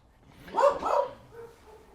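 A dog barks twice in quick succession, fairly close and loud, then falls quiet, with no talking.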